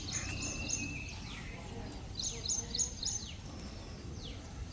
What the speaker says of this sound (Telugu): మా ఇంటి దగ్గర అయితే సైలెంట్ గా పిచ్చుకల అరుపులు తప్ప ఏవి వినిపించవు